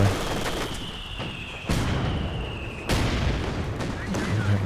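Distant rattle of MG42 machine gun fire in a Company of Heroes 2 battle, soft bursts buried in a busy wash of combat noise, with two louder impacts breaking through.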